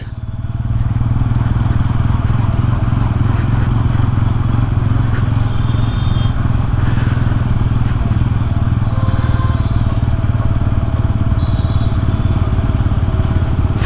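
A Bajaj Pulsar N160 4V motorcycle crawls along in gear with no throttle, its engine giving a steady, continuous low drone close by, with faint chatter in the background.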